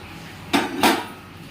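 A lid set onto a pot of Bengali mutton curry, making two quick metallic clanks close by, one just after the other, over a quiet kitchen.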